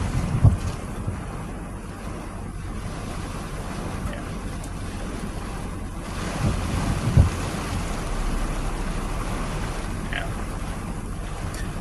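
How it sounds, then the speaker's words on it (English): Heavy rain falls during a Wisconsin summer thunderstorm as a steady, dense hiss, with gusty wind buffeting the microphone and a few brief thumps. "Yeah, here comes the heavier rain."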